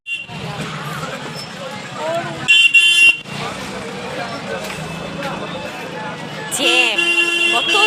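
Car horns toot in a traffic jam, several short honks cutting through engine rumble and crowd babble, with a louder sustained horn near the end, and people talking throughout.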